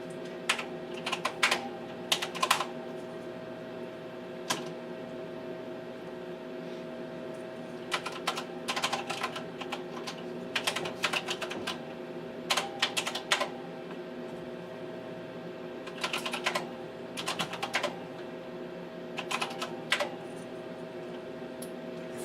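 Bursts of key presses on a Tektronix 4051 computer keyboard, quick clusters of clicky taps separated by pauses, over a steady electrical hum from the machine, fairly close and moderately quiet.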